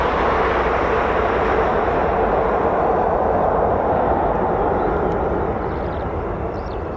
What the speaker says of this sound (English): And spy a KC-135 in the mist.